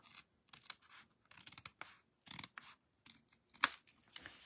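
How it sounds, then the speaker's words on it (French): Scissors snipping off the overhanging edges of paper pockets for a mini album, in several short bursts of close, crisp cuts separated by brief pauses, with one sharper snip near the end. "On va aller tout couper ce qui dépasse même."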